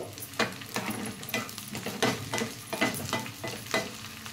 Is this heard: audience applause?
no